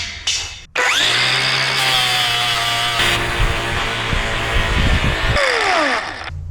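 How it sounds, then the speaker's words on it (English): A Sefaspe 250A MIG welder runs on a thick metal piece, giving a steady, loud buzzing crackle with an underlying hum for about five seconds after a short start. "Should we weld that hunk on there somewhere?"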